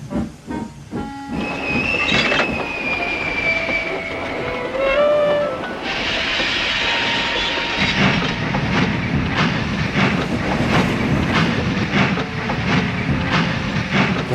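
Steam trains in the video game Sodor Online chug and rumble up a hill with clickety-clack and hissing, plus a whistle or horn, loud and continuous as they labor along.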